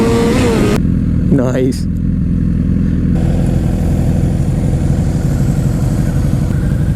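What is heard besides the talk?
2006 Suzuki GSX-R 750 motorcycle engine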